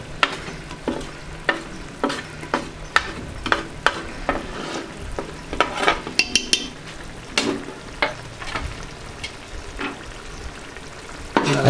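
Whole masoor lentils frying with turmeric, red chilli and salt in a pan, a steady sizzle broken by regular scraping knocks of a spoon stirring, close up, with no talking.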